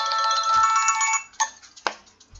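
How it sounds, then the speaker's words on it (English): A mobile phone ringtone plays a bright, steady electronic melody for about a second, then breaks into a few short chimes and clicks before falling silent. "Sorry, that's my phone."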